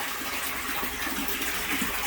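Water rushes steadily through an H2O pond bio filter on a Bestway pool pond and IBC tote tank, a constant close broadband gush with no pauses and no talking.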